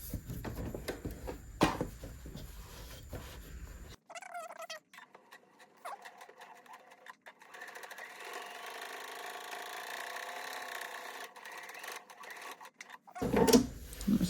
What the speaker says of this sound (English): right in this gap in the middle, where you can see where you have nothing right in here in this space, I'm going to do a couple of rows of stitching.